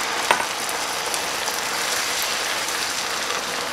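Bourbon cooking and bubbling in a pan of bacon onion jam with garlic, a steady close sizzle and fizzing crackle with a brief clink near the start, no voices.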